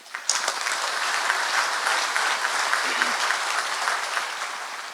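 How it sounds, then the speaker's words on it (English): A banquet audience at a safety excellence awards dinner bursts into applause, a sustained rush of many hands clapping that swells quickly and tapers slightly at the end. "Let's give them all a round of applause."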